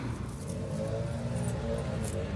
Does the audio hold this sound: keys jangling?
yes